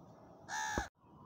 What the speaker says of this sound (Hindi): ये कौवा इधर खाना के लिए तड़प रहा है।